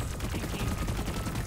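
Rapid automatic fire from a sentry turret in the video game Deep Rock Galactic, a dense, steady rattle of shots running continuously at close range for the whole moment.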